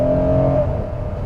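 A 2022 Hyundai Palisade Calligraphy three-row SUV accelerating in second gear, engine heard from the cabin as a steady, fairly loud drone that holds a rising note and then eases slightly as the shift approaches, with no talking.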